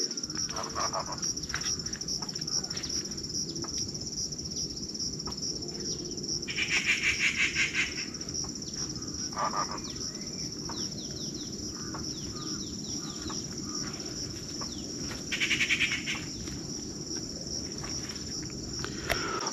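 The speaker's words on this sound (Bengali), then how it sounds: "এই চুপ চুপ পাখির আওয়াজগুলো একটু শুনি" Birds call in the wooded hills above Mohamaya lake, with a few short chirping bursts standing out over a steady, hissing background of insects and wind, fairly distant and without talk.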